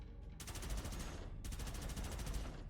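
Rapid pistol fire in the first-person shooter Gunfire Reborn, two sustained bursts of fast, regular shots, loud and close, separated by a brief pause.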